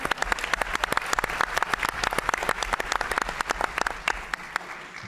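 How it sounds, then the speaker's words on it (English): Applause at a school board of education meeting, sparse individual claps from a small group, sharp and irregular, fairly close and steady throughout. "Can I get a motion to give them a round of applause again?"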